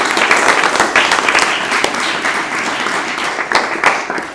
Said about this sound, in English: let's also give a round of applause for our terrific organizers